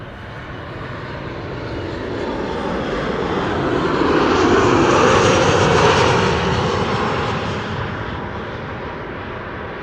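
A Transavia airliner arriving at Amsterdam Schiphol from Alicante passes overhead, its jet engines building to a loud broad roar near the middle before fading away, with no voices.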